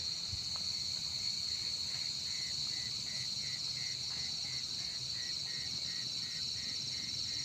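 Crickets chirp at night outdoors during a cricket hunt. A dense, steady high trill runs throughout with a rhythmic pulsing chirp layered over it, fairly faint, with a low rustling background and no clear talk.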